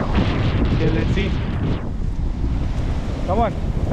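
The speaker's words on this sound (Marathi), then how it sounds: "लाटा जबरदस्त बनतात. लाटा खतरनाक आहे." Strong sea waves break on a Konkan beach, a loud continuous roar of surf mixed with heavy wind buffeting the microphone, with brief voices in the background.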